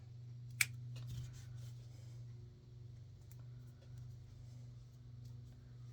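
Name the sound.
scissors cutting off thread knot in silicone armature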